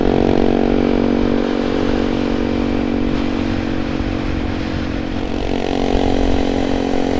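A Honda Monkey 125 motorcycle rides steadily on roads in northern Scotland, its small single-cylinder engine droning loud and close at a fairly even pitch with slight swells in revs throughout, no voices.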